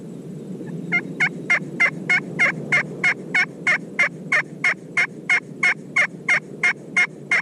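Wild turkeys gobble again and again in a steady run of loud, close calls, with no talk over them.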